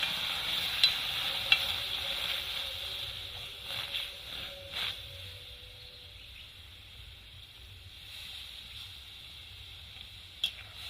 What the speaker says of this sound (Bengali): আমি দু বাটি জল দিয়ে দেবো